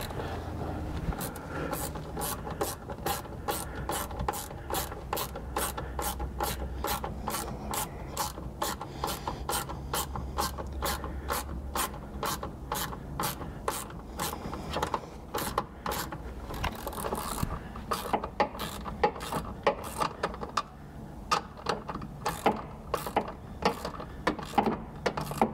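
Ratchet wrench tightening a nut on a snorkel mounting stud on a third-generation Toyota Tacoma, a close, rapid series of evenly spaced clicks that run on for many seconds, slowing and turning irregular toward the end.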